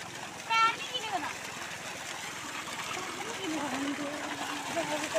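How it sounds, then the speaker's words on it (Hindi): Water from a village tubewell splashes and trickles steadily as children wash their hands outdoors, a soft running wash with a brief louder splash early on and voices talking over it. "तो अभी बच्चे यहाँ पे हाथ धो रहे हैं, ये देखिए।"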